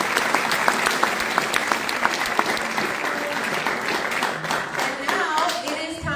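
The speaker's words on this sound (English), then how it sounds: "please give our seniors another round of applause." An audience at an FFA chapter ceremony gives the seniors a loud, dense round of applause, with steady overlapping clapping that holds up without a break.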